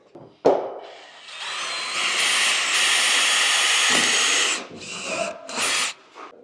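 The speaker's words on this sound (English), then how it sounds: "just a couple of wee pilot screws to go up through here" A handheld power drill drives small pilot screws during work on a 4x4 vehicle, giving a loud, whining run of a couple of seconds near the mic, followed by shorter stop-start bursts.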